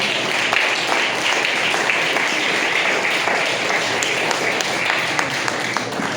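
Sustained applause from a large church congregation fills the space, steady dense clapping throughout with a few sharper individual claps standing out.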